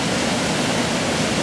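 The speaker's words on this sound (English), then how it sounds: "fast moving, fast flowing eddy here, creating this pond." A river channeled into a fast-flowing eddy near a pond rushes as a loud, dense, unbroken roar of moving water for a brief moment, with no voices.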